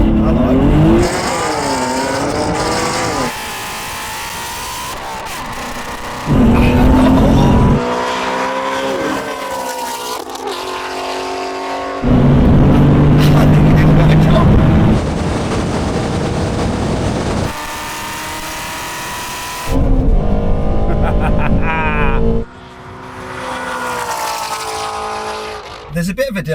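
A BMW M4 CS and a Shelby Mustang GT350 drag race, engines revving hard through rising gear pulls in loud bursts separated by quieter gaps, with people talking over parts of it.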